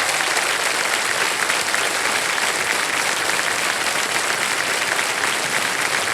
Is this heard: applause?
yes